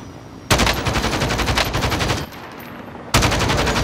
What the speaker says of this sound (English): there's two guys shooting at me